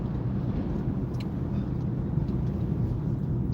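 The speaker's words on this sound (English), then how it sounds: "Big trucks, man." Big trucks passing on the I-94 highway in Detroit, a loud continuous low roar and rumble of heavy traffic heard from inside a moving car, with no talk.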